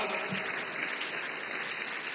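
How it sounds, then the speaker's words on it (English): Audience applause at a creator economy summit in India, a dense continuous patter of many hands clapping at moderate distance, steady from start to finish with no voices. "Yeah, you can clap."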